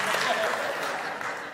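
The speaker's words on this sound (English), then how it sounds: "don't clap at my problems" Audience applause during a large public talk, brief and moderately loud, with a speaking voice running over the clapping.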